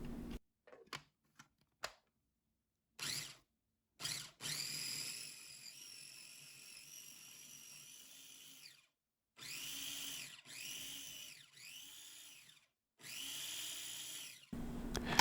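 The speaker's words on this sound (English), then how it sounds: "Put the rest of the ingredients into the blender at once." A blender grinding tofu, citron honey tea, perilla oil and soy sauce whirs in several short bursts separated by pauses, then runs in longer stretches that rise and dip as the contents grind.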